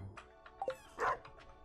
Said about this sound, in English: Woof. Hi, Pupper